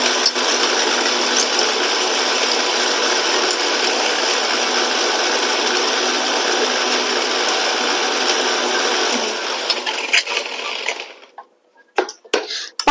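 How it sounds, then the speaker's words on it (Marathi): A kitchen mixer grinder loudly grinds roasted whole spices dry in its jar, a steady high whirring roar for about ten seconds before the motor cuts off, followed by a few clattering knocks. "खडा मसाला आपला, तो मी आता या मिक्सरच्या जारमध्ये घेते आणि बारीक करणार आहे"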